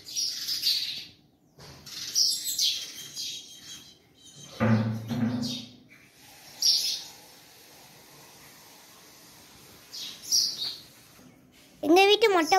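House sparrows nesting in a home give several short bursts of high chirps and tweets, separated by quiet gaps, with a lower thump or voice-like sound in the middle.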